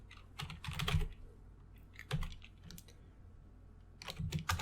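Keys clack on a computer keyboard in short, lively flurries separated by brief pauses while code is written for a Python lesson, with no voices present.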